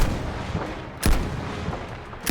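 Sniper rifle fire in the video game Battlefield V, three sharp shots spaced across a couple of seconds over a dense battlefield noise bed.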